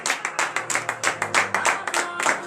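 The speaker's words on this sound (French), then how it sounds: "Veuillez vous lever sur vos pieds et donner de vives acclamations à l'Éternel." A church congregation clapping during a morning prayer service, a rhythmic train of close, sharp handclaps with a faint tonal hum beneath, without speech.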